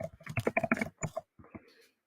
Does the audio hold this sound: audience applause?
no